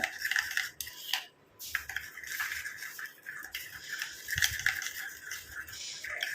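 Spoon stirring turmeric powder into a paste in a bowl, with continuous scraping and clinking of metal against the bowl, fairly quiet with short pauses.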